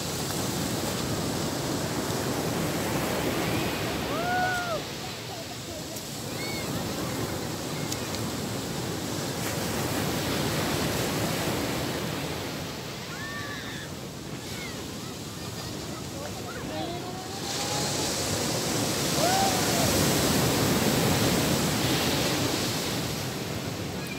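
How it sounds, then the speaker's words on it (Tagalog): Steady roar of strong surf washing in on a beach at Sitio Liwliwa, San Felipe, Zambales, under wind, with occasional faint bird calls and a few murmuring voices in the background. "Kasi malakas yung alon niya."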